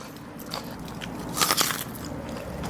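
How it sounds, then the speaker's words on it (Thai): Crunchy bites and chewing on pickled cuttlefish tentacles in a spicy Thai salad with pickled field crab, close crackling crunches peaking in a dense burst midway, with no talking. "นวลหมึกกระดองอร่อยจ้ะมันกรอบ"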